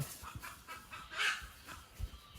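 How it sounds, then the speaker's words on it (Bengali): A chicken being chased outdoors lets out a brief squawk midway through, amid faint scuffling and rustling, all quiet and somewhat distant. "এই মুরগি দৌড়াইতেছিস কেন?"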